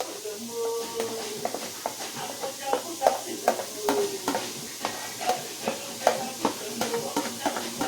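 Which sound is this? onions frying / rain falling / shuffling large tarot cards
onions frying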